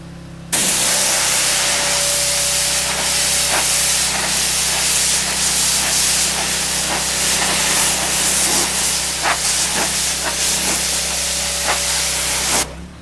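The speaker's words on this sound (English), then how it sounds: "Now we're going to go through and spray them down and get all the debris and crap off." Steady, loud spray of pressurized water hissing without pause onto car floor mats, with faint scrubbing and rustling underneath and a low mechanical hum throughout.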